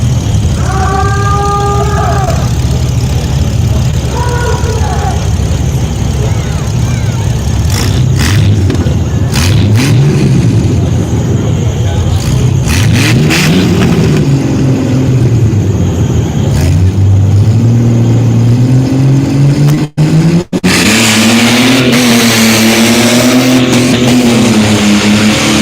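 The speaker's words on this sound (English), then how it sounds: "Truck sounds like it's got a little tuning done to it. Cyrus launching off the line." A tuned mud bog truck at a mud bog event revs hard and launches, its loud engine rising and falling in pitch through repeated pulls, with sharp crackles and a higher-pitched surge near the end.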